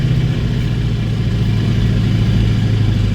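A truck engine with a two-speed axle revs hard while driving, a loud, steady droning roar that holds throughout the short stretch with no talk.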